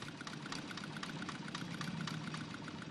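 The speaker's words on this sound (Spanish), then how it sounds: "El ruido de tantos motores en el Gran Canal hace a su ambiente muy diferente del siglo XIII." Many boat motors running on the Grand Canal, a steady rumbling drone of engines that fills the scene without pause and without any voices.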